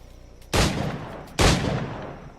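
Two loud, sharp pistol shots about a second apart, each ringing out with a short decaying tail, fired at targets in Assassin's Creed 4 Black Flag.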